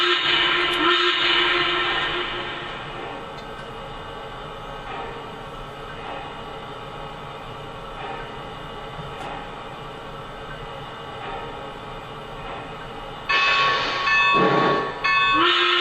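A Lionel Nickel Plate Road 2-6-6-2 Mallet model train runs steadily with a continuous mechanical rumble and whir, and a brief whistle-like burst sounds near the end.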